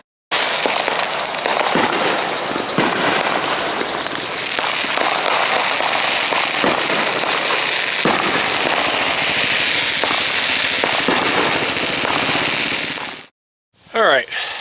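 Fireworks going off after a night of racing at Central Missouri Speedway, a dense, continuous barrage of loud crackling bursts and booms lasting over ten seconds, then a brief pause and a short final burst.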